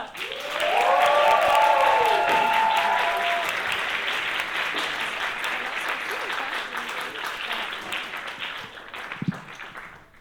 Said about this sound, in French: on va vous demander un tonnerre d'applaudissements pour Alex Delande.